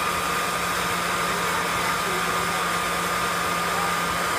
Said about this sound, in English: So let's do the blow dryer. Let's just do the low setting.